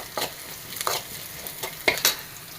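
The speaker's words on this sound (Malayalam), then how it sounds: "കടുക് ഇട്ട് കൊടുത്തു ഒരു പത്ത് പതിനഞ്ച് ചെറിയുള്ളി" Small shallots tossed into hot oil with mustard seeds, giving soft crackling and a few sharp stirring clicks for a Mumbai-style snake gourd thoran, fairly faint and close with no talk.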